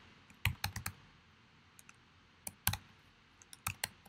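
Computer keyboard keys clicking in short separate bursts, a few quick taps and then a pause before another cluster, in a quiet room with no talk.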